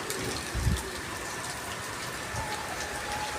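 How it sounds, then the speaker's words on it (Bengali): Rain falls steadily outdoors in a village, giving an even, continuous hiss of drops on surfaces, with a brief low thump early on. "এই যে বৃষ্টি পড়ছে"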